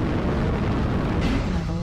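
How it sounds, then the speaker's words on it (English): Airstrike blast in the mech combat game MechWarrior Online, a loud, heavy, rumbling explosion lasting a couple of seconds that fades slightly toward the end. "Airstrike."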